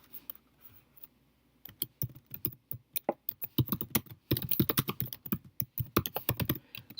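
Rapid clattering keystrokes on a computer keyboard, quiet and close, with a slow start before the typing picks up into a fast, uneven burst.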